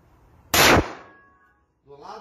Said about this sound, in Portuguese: Posso disparar do jeito que eu quiser